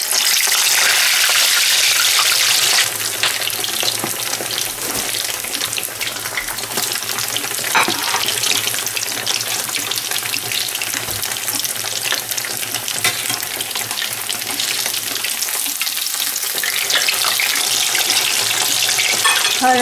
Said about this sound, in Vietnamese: dầu đã sôi chúng ta bắt đầu chiên nhé